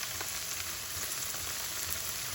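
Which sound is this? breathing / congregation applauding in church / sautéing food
sautéing food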